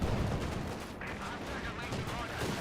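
Artillery barrage from the Company of Heroes 2 video game: a dense, continuous wash of booming gunfire and explosions running throughout, with a commentator's voice faintly mixed in.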